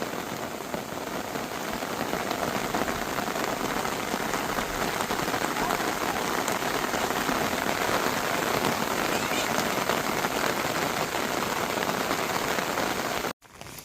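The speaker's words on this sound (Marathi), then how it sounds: "आता खूप वाढला पाऊस अजून." Heavy afternoon rain pours steadily on a farm, a dense continuous hiss of drops on surfaces that stays loud and close until it cuts off abruptly near the end.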